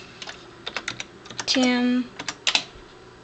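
Close, quick clicking of fingers typing on a computer keyboard, uneven bursts of keystrokes with a short steady electronic tone sounding midway, under some speech.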